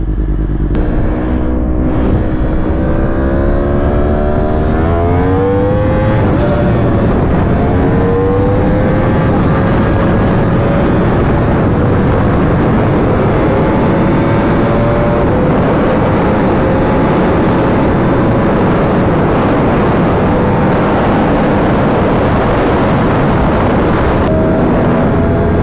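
A Yamaha R1 sportbike pulls hard through the gears on a quick shifter, its engine pitch rising and snapping down several times in steady succession. The sound is loud and close throughout, with heavy wind roar and no talk.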